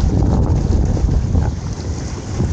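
Strong, steady wind buffets the microphone with a continuous low roar, over faint water and boat noise at a Baseco fishing spot.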